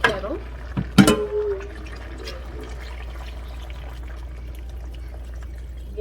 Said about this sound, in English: Add some more hot water